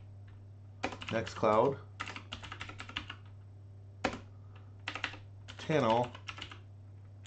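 Computer keyboard keys tapped in quick bursts of clicks while someone speaks over them, with a steady low hum underneath.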